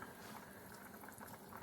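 Potatoes boil in a pot of water on a kitchen stove, giving a steady bubbling, simmering hiss with small pops throughout, close by and with no voices.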